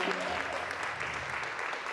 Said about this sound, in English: Y'all give a round of applause for Isaac.